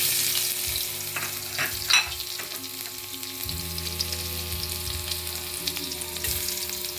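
Garlic sautés in a pan with a steady, moderate sizzle and crackle, punctuated by a few sharp clinks and stirring sounds, with a low hum underneath.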